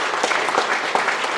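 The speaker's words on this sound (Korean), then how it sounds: "박수 부탁드립니다." Audience clapping at a residents' information session in Gyeryong, a dense steady burst of applause from a seated crowd filling a hall, with no voices over it.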